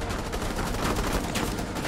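Dense, continuous rapid gunfire in Rainbow Six Siege, loud and close, with overlapping shots filling the whole moment and no talking.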